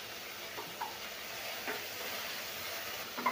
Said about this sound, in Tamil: இப்போது நான் வெண்டைக்காய் சேர்த்து வதக்குறேங்க